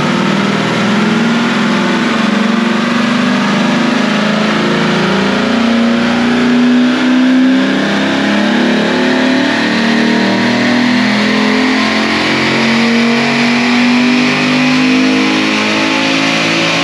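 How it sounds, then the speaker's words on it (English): A Chevrolet Corvette engine with upgraded heads and cam drones and revs loudly and continuously on a dyno for a long stretch, the pitch slowly climbing, with a rough, rattling edge from a loose, banging exhaust. "Exhaust banging around, so we gotta straighten it out before we continue"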